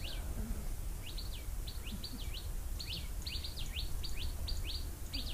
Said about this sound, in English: Even the birds celebrate.